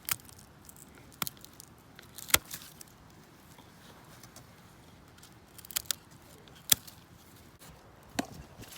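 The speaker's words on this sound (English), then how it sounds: "I'm going to cut at the very bottom of all of these stalks here." Elderberry stalks being cut at the base with pruning shears, heard as a handful of sharp, isolated snips spaced irregularly over a quiet outdoor background.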